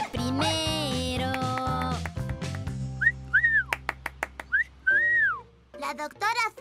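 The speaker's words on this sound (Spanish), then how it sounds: "La doctora silba muy bien. ¡Increíble! Se parece a un pájaro cantando." A person whistles bird-like chirping phrases: short rising and falling warbles repeated several times, fairly close and clear, following a stretch of music with an animated children's-show feel.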